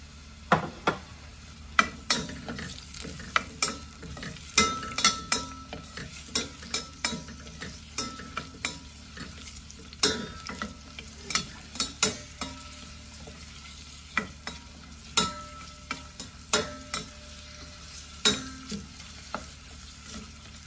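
Garlic paste cooks in not-yet-very-hot oil while being stirred, producing a soft background sizzle broken by frequent scraping and clinking taps of a utensil in the pan.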